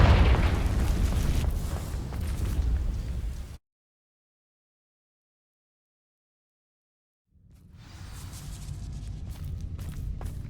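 Confringo fire spell igniting dry vines in Hogwarts Legacy, a loud rumbling whoosh of burning that cuts off abruptly, followed after a silent gap by a steadier crackling roar.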